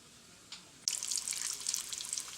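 Fleischkuekle, dough-wrapped hamburger, frying in a pan: a brief faint click, then a steady close crackling sizzle that keeps going at an even level.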